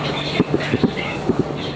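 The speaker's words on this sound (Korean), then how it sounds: "지하철이나 타고 가겠습니다." Subway train running on the rails in Chongqing, China: a steady rumbling roar with a few sharp rhythmic clicks from the wheels. The sound is close, continuous and fairly loud.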